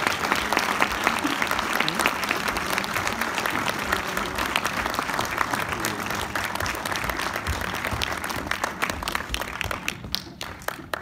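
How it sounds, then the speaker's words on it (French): An audience at a film premiere for the French comedy "Permis de construire" applauds loudly and continuously, a dense crackle of many hands clapping that thins slightly toward the end. "Je vous demande de bien les applaudir."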